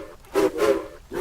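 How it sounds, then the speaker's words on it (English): A steam whistle sounds in short, breathy hoots with a hissing edge, two or three bursts in quick succession, fairly faint. "Hero blew his whistle."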